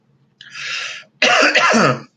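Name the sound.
cough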